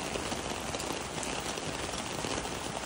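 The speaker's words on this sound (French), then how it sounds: "Puis comment il pleut, bah y a personne." Rain falls steadily in hot, humid Japan, a broad, even hiss of drops on surfaces that carries on without a break at moderate distance, with nobody speaking.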